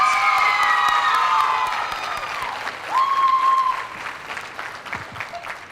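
An audience at a school livestock show cattle event claps and cheers loudly, with whoops and high shouts early on, the applause thinning toward the end.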